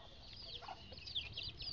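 Chickens cluck softly in short, quick, high chirping bursts, fairly faint and close, with no voices over them.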